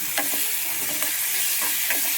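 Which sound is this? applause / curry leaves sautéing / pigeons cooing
curry leaves sautéing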